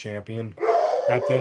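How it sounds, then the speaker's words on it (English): A dog gives a few sharp, close barks in two quick pairs at the start and end while someone talks over them. "Excuse my dog"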